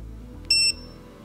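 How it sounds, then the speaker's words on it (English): A black electronic telescope focuser gives a single short, clear electronic beep with a few pure tones when plugged in, brief against a quiet background. "when you plug in this electronic focuser, it actually makes a beep"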